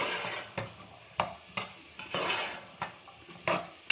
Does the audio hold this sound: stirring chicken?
yes